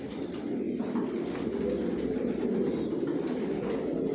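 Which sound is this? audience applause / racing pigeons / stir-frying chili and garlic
racing pigeons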